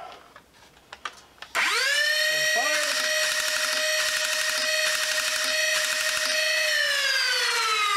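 The flywheels of a DartZone Pro MK-3 foam dart blaster, powered by a 2S LiPo battery, spin up with a sharp rising whine. The pitch climbs, then settles into a loud, steady high-pitched hum close by, after a few quiet handling clicks.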